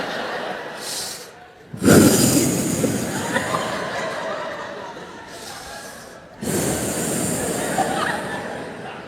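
A voice imitates deep, slow breathing: long breathy inhales and exhales, close and fairly loud, with a short pause between two drawn-out breaths.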